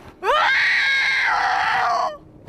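A woman's high, sustained scream, played back as a recording and likened to a Sasquatch call, rises sharply, holds loud and strained for about two seconds, then drops away, with no other sound around it.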